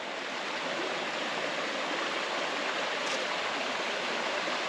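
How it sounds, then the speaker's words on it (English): A creek in the Yadkin Valley flows steadily, a constant broadband rush and burble of running water with no breaks, moderately close and fairly soft, with no voices. "But here's the creek."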